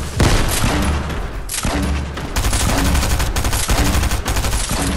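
Grenade launcher fire in a squad shooter game, repeated booming shots in rapid bursts with short gaps, loud and dense with crackling gunfire layered throughout.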